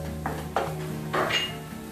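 Malvani masala being sautéed in a pan over a low flame, giving a few short scraping and clinking strokes of a spatula against metal, fairly close and with no talking.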